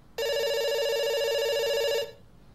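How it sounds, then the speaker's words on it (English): A telephone rings in the video game Dr. Langeskov, The Tiger, and The Terribly Cursed Emerald: one loud, steady electronic ring lasting about two seconds, heard alone and then cut off sharply. "It's ringing."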